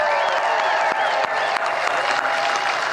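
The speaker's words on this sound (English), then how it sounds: "Give them a round of applause." A large crowd at a Trump and Vance national security rally in Asheboro, North Carolina breaks into loud, sustained applause and cheering, a dense unbroken roar of clapping.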